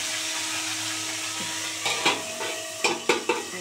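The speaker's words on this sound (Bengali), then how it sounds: "এবার এই পিঠটাও ভালো করে কড়া করে ভেজে নেব" Katla fish head frying crisp in a pan, a gentle steady sizzle broken by several sharp knocks and scrapes of a utensil against the pan toward the end.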